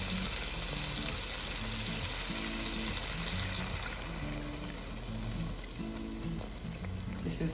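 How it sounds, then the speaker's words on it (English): Water poured into a pan of egg masala curry with tomato sauce, a steady close splashing and trickling over a faint sizzle, with no talking. "And we're going to pour in some water."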